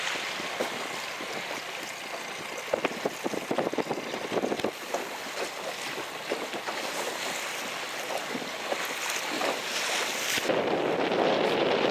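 A boat engine drones steadily as its cooling water sprays out, under rushing water spray and wind buffeting, continuous and close throughout.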